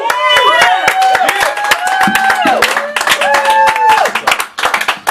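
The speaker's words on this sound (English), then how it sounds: "Big round of applause to George Hammond." Sharp scattered hand claps ring out at a poetry potluck gathering, mixed with loud cheering and whooping voices over the clapping.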